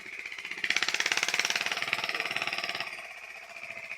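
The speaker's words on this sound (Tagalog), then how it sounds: "Kakandar lang ng makina." A water pump engine used to irrigate a cornfield starts and runs, with a rapid, even mechanical chugging that builds up loud and then eases slightly toward the end.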